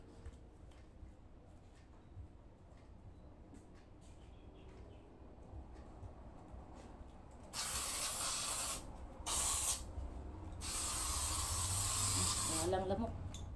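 Bursts of hissing insect spray against mosquitoes, a couple of short ones then a longer steady blast, close and loud after quiet background noise.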